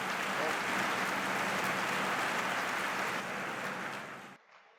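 Steady, loud applause from a comedy poetry gathering (hasya kavi sammelan) audience, dense clapping that holds evenly then fades and cuts out near the end.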